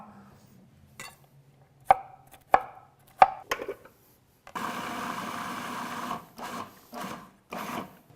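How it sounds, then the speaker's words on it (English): Rapid bursts of a food processor chopping roughly cut cauliflower, a few short pulses followed by a sustained whirring run and then several more short pulses, close and loud. "These are headed to the food processor."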